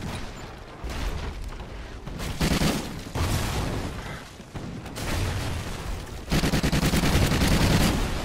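Sustained gunfire in the multiplayer shooter Call of Duty Ghosts on PS4, bursts of automatic fire and louder volleys coming in waves over eight seconds, dense and close with no talk.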